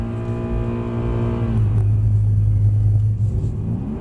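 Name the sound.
Mercedes-Benz car engine while drifting on track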